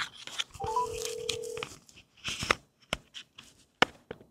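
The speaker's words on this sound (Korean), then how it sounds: "전화 연결하겠습니다." Telephone call being connected, with a steady dial tone lasting about a second, followed by scattered clicks and short electronic blips, fairly quiet and with no talking.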